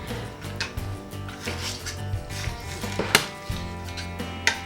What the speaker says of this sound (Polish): Piersi z kurczaka kroimy na kawałki